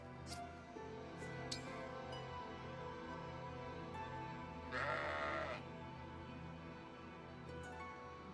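A single video game sheep bleat from Fire Emblem Engage rings out midway over a quiet steady background hum, with a couple of faint clicks earlier.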